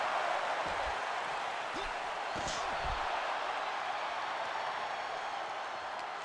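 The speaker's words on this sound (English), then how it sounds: "This crowd chanting, "We're not worthy."" A wrestling arena crowd in a WWE video game roars as a steady, distant wash of noise throughout, with a few faint thuds underneath and a commentator talking over it.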